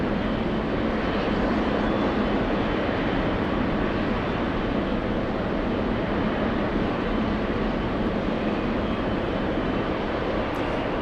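An All Nippon Boeing 777 airliner arriving at JFK produces a constant, loud rushing jet engine roar that stays dense and even for eleven seconds, with no talking.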